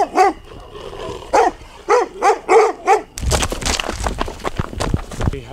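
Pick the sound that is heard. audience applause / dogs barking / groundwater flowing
dogs barking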